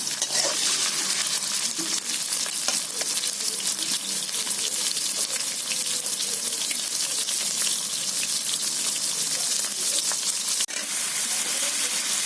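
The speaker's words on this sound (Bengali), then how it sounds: "কড়াইতে তেল দিয়ে দিয়েছি, তো আমি বন্ধুরা এখন চিংড়ি মাছগুলো আমি ভেজে নিচ্ছি।" Prawns crackle and hiss steadily as they fry in hot oil in a wok, a dense, loud sizzle running throughout with no talking.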